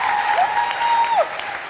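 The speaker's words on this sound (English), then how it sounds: "could you give yourselves an enormous round of applause for coming out" Audience applause at a live comedy show on tour in snowy weather, a steady wash of clapping throughout with a sustained whistle-like tone riding over it.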